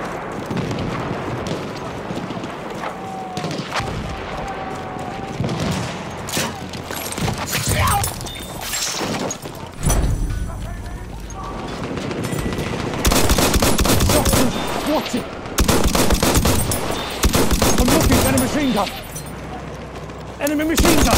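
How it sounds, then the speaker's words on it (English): Bursts of rapid machine gun fire and scattered gunshots rattle through a video game battle, loud and repeated in clusters with brief lulls between, mixed with voices talking. "Look out! Machine gun!"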